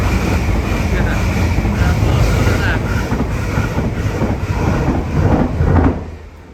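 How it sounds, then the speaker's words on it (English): A train passing close by at Broxbourne in the UK, a loud rumbling roar with heavy wind buffeting on the microphone that holds for several seconds and then drops away. "Oh, got a train here."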